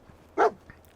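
A single short, sharp dog bark in the Fallout 4 video game, close and fairly loud, followed by a fainter yip.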